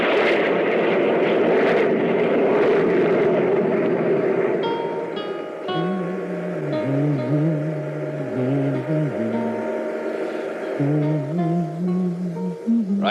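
A spaceship's jet drive roars as a sound effect in a classic science fiction radio drama, a loud broad rushing engine noise that thins out and gives way to a wavering, warbling tone.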